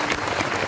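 Audience applause at a kirtan devotional gathering: a dense, steady wash of many hands clapping together, fairly loud and continuous through the short moment.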